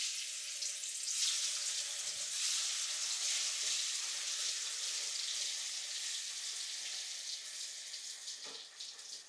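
Fish frying in hot oil in a home kitchen, a steady dense sizzle running throughout, fairly loud and close, with a brief clunk or two of handling partway through.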